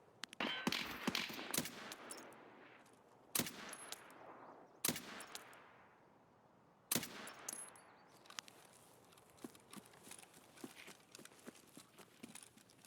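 Video game gunfire at a lighthouse rogue camp: rapid bursts and single sharp shots repeat throughout, fairly close, over a continuous background of in-game ambience with no talking.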